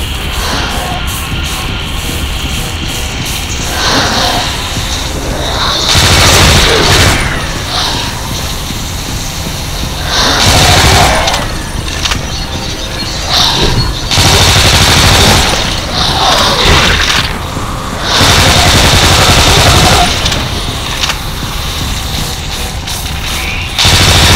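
Dense bursts of rapid gunfire and heavy booming explosions from a zombie shooter video game come in loud, near-continuous waves with brief lulls between.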